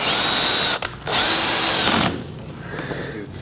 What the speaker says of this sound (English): You've used a power tool